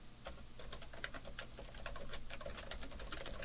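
Rapid typing on a computer keyboard while entering an HTML heading, a steady run of crisp, close key clicks with uneven rhythm and no talking.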